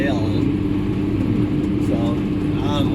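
A 2001 New Holland BB940 baler runs steadily while baling first-cutting hay, a loud continuous mechanical drone with a rhythmic chatter, heard close and unbroken throughout.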